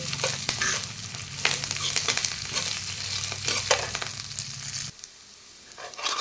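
Garlic, coriander seeds, cumin, chana dal, urad dal, curry leaves and tamarind sizzle in a pan for a coconut chili powder, with stirring scrapes over a constant crackle that drops away near the end.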